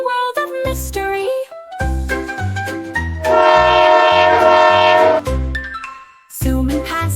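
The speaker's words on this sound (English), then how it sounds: "All aboard the adventure train, through the sunshine, wind and rain." Train rolling with a horn whistle in a children's song, a bright sustained whistle tone over rhythmic chugging and jingling music, loud and up front.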